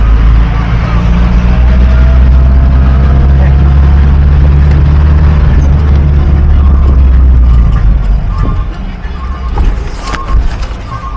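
Dense road traffic on an Alexandria street with no signals, heard as a loud continuous engine rumble from cars and buses that eases toward the end, where sharper nearby clatter and horn-like tones break through, with some talk in the background.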